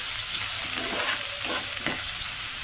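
Ginger garlic paste and finely chopped onion sizzle and fry in hot oil, a steady close hiss with a few soft scraping stirs partway through.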